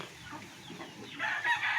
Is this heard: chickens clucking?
yes